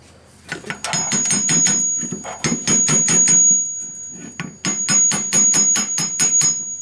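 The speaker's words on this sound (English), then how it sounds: "Give it a tap, with a hammer." A hammer taps on radiator parts of a 1953 Chevy during restoration: rapid runs of sharp metallic strikes in two bursts separated by a brief pause, with a thin ringing tone held above them.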